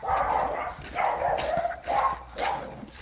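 A dog barking during a walk outdoors, four separate loud barks spaced roughly half a second apart, close to the listener with faint background noise between them.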